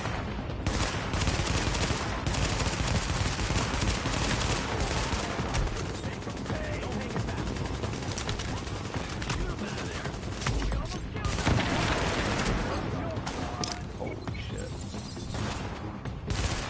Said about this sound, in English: You can also blind fire from cover.